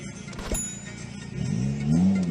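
A turbocharged Honda DC5 Type R Mugen engine hums and rises in pitch as it builds revs, heard from inside or near the car with no talking over it.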